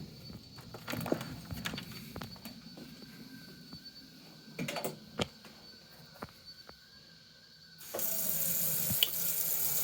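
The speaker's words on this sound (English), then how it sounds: "Run in the hot water tap, but I'm not going to let it get too hot." Hot water running from a tap to wet a leather holster for wet forming, a steady broadband splash that grows louder and fuller near the end, with a few sharp clicks and knocks scattered over the flow.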